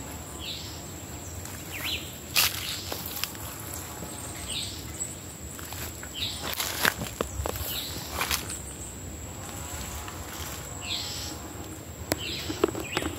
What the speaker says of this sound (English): I want you guys to hear the sound of other birds.